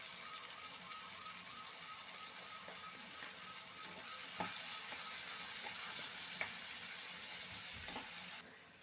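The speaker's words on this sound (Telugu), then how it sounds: "కరివేపాకు ఉల్లిపాయ పచ్చిమిరపకాయలు వేగుతాయండి" Curry leaves, onions and green chillies frying in a pan for tomato egg curry, a soft steady sizzle with occasional stirring clicks, quiet and uninterrupted by talk.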